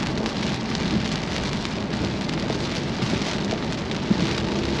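Steady, dense rain from a storm near Augusta, Arkansas, along Highway 64, pours as an even hiss throughout, with only a faint hint of a distant thunder rumble near the end.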